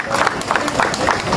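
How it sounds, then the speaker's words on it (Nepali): An audience claps for a medal recipient at an Indian 78th Independence Day celebration in Dharan: brief, steady, fairly close crowd applause with a quick, regular rhythm and a murmur of voices. "उहाँको नाममा ताली बजाउनु होला।"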